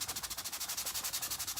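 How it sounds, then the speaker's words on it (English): Rapid back-and-forth hand sanding scrubs orange paint off a wooden surface, a steady, even rhythmic rasp of about a dozen strokes per second, close and fairly quiet, with no talking. "Just sanding off this orange."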